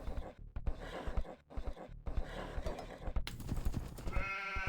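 Sheep bleating in Age of Empires amid steady game ambience, several short bleats and clicks close by, ending with a longer, clearer wavering bleat.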